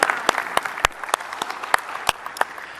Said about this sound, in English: Should we all clap for you?